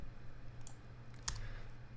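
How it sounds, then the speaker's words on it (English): Single key press on a computer keyboard while working in After Effects, one faint sharp click over steady low hum. "I'll hit the W on my keyboard to use my rotation tool to rotate it just a little bit."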